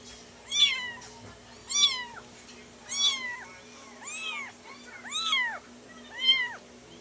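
Kittens meowing repeatedly, six high-pitched mews spaced about a second apart, close and clear over a faint steady hum.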